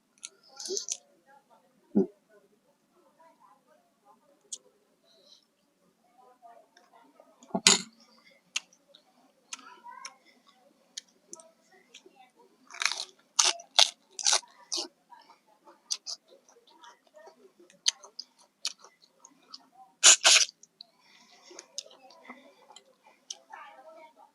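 Someone eating a large boiled blue crab with a seafood dipping sauce makes sharp, irregular cracks and crunches, close and loud against a quiet background, with a voice talking in between.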